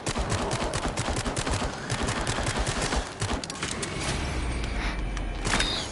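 Rapid pistol gunshots in a video game, a dense volley of sharp reports firing in quick succession, loud and close, followed by a brief lull with low rumbling.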